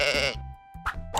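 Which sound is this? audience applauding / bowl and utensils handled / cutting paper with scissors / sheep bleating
sheep bleating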